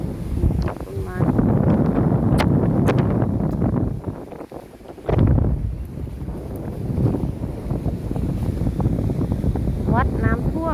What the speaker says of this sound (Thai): ได้ยินเสียงลมไหมคะลมแรงมาก